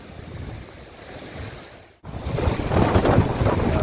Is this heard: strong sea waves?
yes